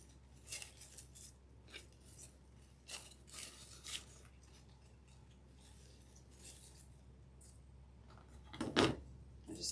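Scissors snipping the ribbon tails of a wreath pick on a boho grapevine fall wreath: scattered, faint short cuts and rustles with a louder snip near the end, no voices.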